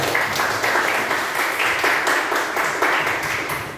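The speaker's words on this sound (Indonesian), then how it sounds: "tepuk tangan untuk Rafa Agatha" Students in a classroom give a round of applause for a classmate, a steady wash of small-group clapping that holds at an even level throughout without any talk.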